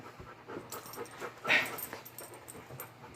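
A dog whimpers and pants nearby, with one brief higher yelp in the middle; no talking.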